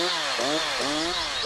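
A Husqvarna chainsaw cuts into a tree trunk from the base upward, its engine a loud, continuous buzzing snarl whose pitch dips and recovers as the chain bites into the wood.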